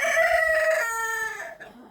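A hen, among mixed and purebred chickens such as Cochin and Australorp, gives a single drawn-out, tonal squawking call close by, falling in pitch over about two seconds.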